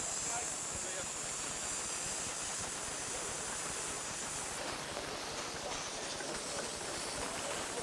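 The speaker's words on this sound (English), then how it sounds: "And there is our train going out once more." A 7¼ inch gauge miniature steam train, the loco Titan coupled to a red Hunslet, pulls away at a society gathering, giving a steady broadband hiss and chuff that runs unbroken throughout, with a faint crowd murmur beneath.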